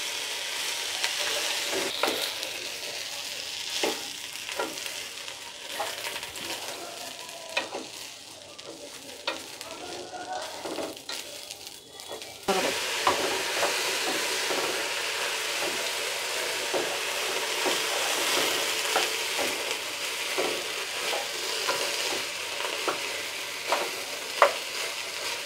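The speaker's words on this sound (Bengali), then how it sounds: "এখন একটু ভেজে নেব।" Matar dal (dried peas) frying in a pan for khichuri: a steady, close sizzle with frequent scraping stir strokes, growing louder and denser about halfway through, with no talking.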